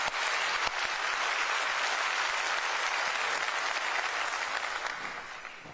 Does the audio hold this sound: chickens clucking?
no